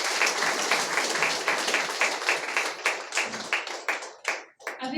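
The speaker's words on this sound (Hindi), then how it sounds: "तालियां बजाएंगे एक बार जोर से।" A crowd at a public anti-drug campaign gathering claps in dense applause that stays steady, then thins into scattered individual claps that trail off toward the end.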